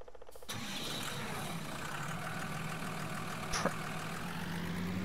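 A 165 hp Hurleman tractor engine in a farming video game cranks and catches, then settles into a steady, close, mid-pitched idle rumble that runs on alone.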